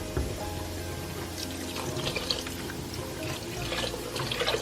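Four cups of water run steadily into a pot, a continuous splashing pour with faint clinks, close by and without voices.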